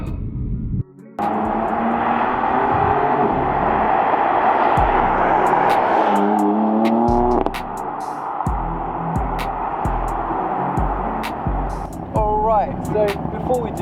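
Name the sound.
BMW car flyby with stock exhaust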